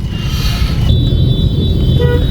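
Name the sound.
car horns honking in traffic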